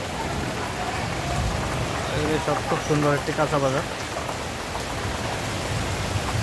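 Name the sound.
rain falling in Guangzhou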